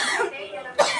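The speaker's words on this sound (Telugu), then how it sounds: "దగ్గులు వేస్తుంది" A woman coughs once, sharply and close by, in a home kitchen where rice is being cooked; voices murmur around the brief cough.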